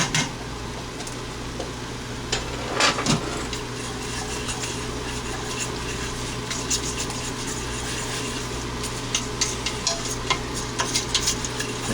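A butter and flour roux is stirred in a hot pan, with a steady low sizzle and soft scraping running throughout and a few brief clinks of utensil against metal.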